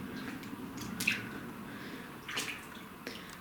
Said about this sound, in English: It's very weird walking in the water.